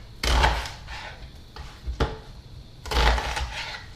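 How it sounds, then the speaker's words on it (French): A knife cuts peeled onions into quarters on a board, a few heavy, thudding chops spaced unevenly with softer knocks and scrapes between them, close and fairly quiet without any talk. "J'ai pelé les oignons, je vais maintenant les couper"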